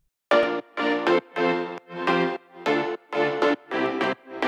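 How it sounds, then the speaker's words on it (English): Eight short, bright major piano chords are played one after another in a steady, bouncy rhythm, with brief gaps between them. "Make some happy sounding chords."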